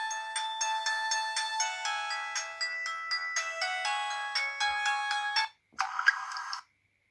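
Startup melody of a JWD S300 Chinese mobile phone: a bright electronic run of quick beeping notes for several seconds, then a brief gap and a short final chime, close and clear with no speech.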